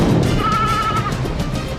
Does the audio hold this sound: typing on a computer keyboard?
no